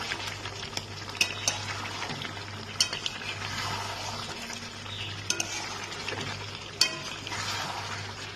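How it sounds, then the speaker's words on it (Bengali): Chicken curry with Kashmiri chili powder sautéing in a pan as a spoon stirs and scrapes with sharp intermittent clinks over a steady bubbling fry, close and moderately quiet. "মাংসটাকে আমার ভালো করে কষানো হয়ে গেছে"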